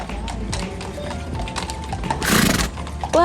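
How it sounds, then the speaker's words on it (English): Horse hooves clip-clop over the streets of Prague's old town, a steady trotting rhythm amid city bustle, with a brief louder burst of noise partway through. "And we saw a few horses."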